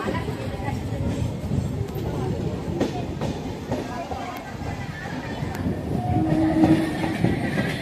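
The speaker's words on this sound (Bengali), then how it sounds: "বালিগঞ্জ স্টেশন ছেড়ে দিল।" A Budge Budge local train pulls out of Ballygunge junction station in Kolkata, a steady rumble and rattle of wheels on rails heard from on board, gradually building, with someone speaking over it.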